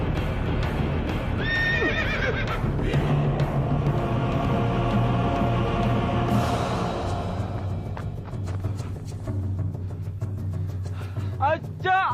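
A horse whinnies in high, wavering neighs at close range, with hoof clatter and a rumbling background. Voices can be heard around the calls.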